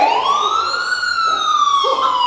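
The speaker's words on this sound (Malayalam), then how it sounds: "അയ്യോ, അത് ആംബുലൻസ് അല്ല, അത് പോലീസാണ്." A police car siren wails loud and near during a Father's Day gathering at St. Mary's Church, Alangad. It is one steady, rising and falling electronic tone, with faint voices beneath.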